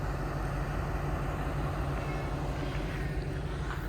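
Express 85 rolling through Khlong Sai station as a steady, close rumble of wheels and carriages that holds evenly throughout without pause.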